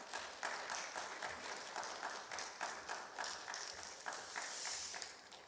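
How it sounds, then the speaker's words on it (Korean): A church congregation gives welcoming applause as the pastor comes forward for the sermon: a steady, fairly soft wash of many hands clapping with no talk over it. "우리 환영의 박수로 환영하겠습니다."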